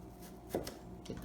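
A knife carves an apple into a swan shape, notching out the neck: a couple of short, crisp cutting sounds close by at a quiet level, with no talk.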